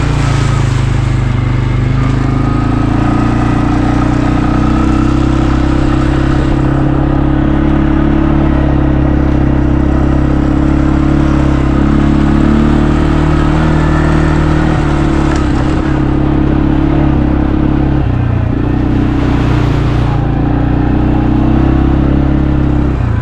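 A manual steering ATV engine labors loudly and continuously up a steep mountain trail in remote West Virginia, its rough idle-to-rev drone dominating with minor clatter and pitch shifts.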